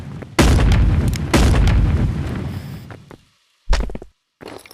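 Guns fire with recoil in the Animal Company video game, giving heavy booming shots with long rumbling tails, two blasts close together, then a gap of silence and more shots.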